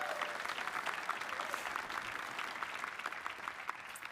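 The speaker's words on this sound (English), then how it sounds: "round of applause for Koren" Audience applause at the Skydio Ascend 2025 drone keynote fills the room, dense and steady clapping from many hands at moderate volume for about four seconds.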